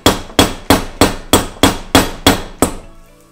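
A hammer drives a tool into the centre electrode of a spark plug, landing eight loud, close metallic blows at an even, steady pace, each ringing briefly before the next.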